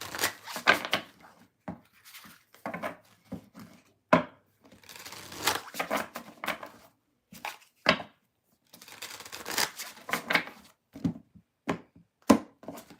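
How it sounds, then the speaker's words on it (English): Tarot cards are shuffled up close in a long series of brisk riffles and soft slaps, each burst separated by short gaps, steady in loudness throughout with no talking. "All right, last deck to shuffle."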